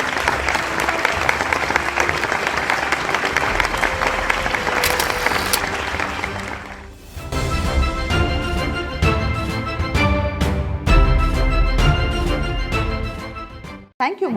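Sustained applause from an audience at an award ceremony honouring mothers, dense clapping for several seconds that gives way to loud music, with cheering voices mixed in.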